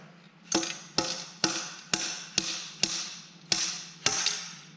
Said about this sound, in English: use your tube like a slide hammer, a couple good shots